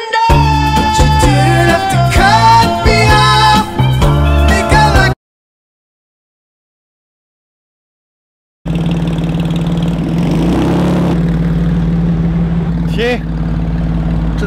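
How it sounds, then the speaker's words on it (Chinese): A loud car engine, thought to be modified and as noisy as a tractor, drones in a steady close rumble after a stretch of music and a brief silence. "什么烂车，声音这么大， 改装的拖拉机吧"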